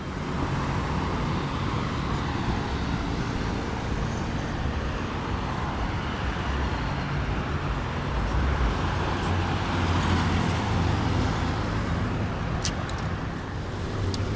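Inside a taxi moving through city traffic, a continuous broadband road rumble and engine hum fill the cabin steadily throughout, with faint passing vehicles outside.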